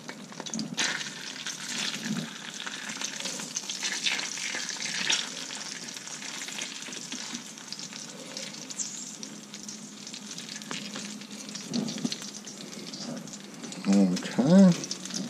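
Fish fillets fry in hot oil with a loud, continuous sizzle, a few clatters and scrapes near the end, and a voice speaking over part of it.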